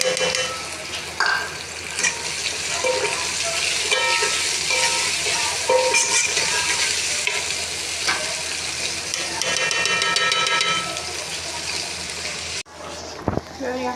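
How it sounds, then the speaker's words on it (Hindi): Onions sizzle hard in hot oil with garlic-ginger paste, chopped tomatoes and green chillies, a loud steady crackle with scraping stir strokes throughout, cutting off abruptly near the end. "और इनको करेंगे अच्छे से फ्राई।"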